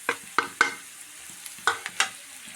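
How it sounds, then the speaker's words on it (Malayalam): A spoon stirs chili powder, coriander powder and other spices into onions frying in a pan for chicken curry, giving several sharp scraping clinks in uneven bursts over a soft sizzle, close and clear with no talking. "നന്നായിട്ട് മിക്സാക്കി കൊടുക്കാം."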